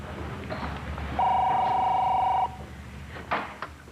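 A telephone rings in a 1997 television drama scene, a single electronic trill lasting about a second, clear above quiet room noise with faint voices around it.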